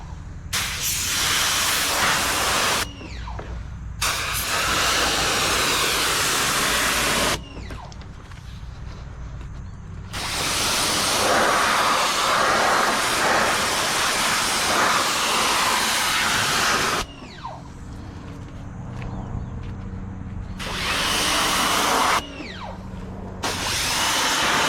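Pressure washer jet blasting water into car door jambs, a loud broadband hissing spray in several long bursts with short quieter gaps where only the machine's motor hum remains.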